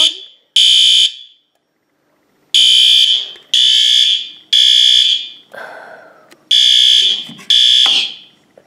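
Loud fire alarm horn sounding in long repeated blasts during a fire alarm system test with strobes, each burst cut off sharply, with a short stretch of silence early and a lower rumbling tail near the end.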